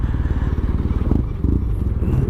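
A Yamaha TMAX scooter engine rumbles close by with a deep, pulsing idle and brief throttle blips rising and falling.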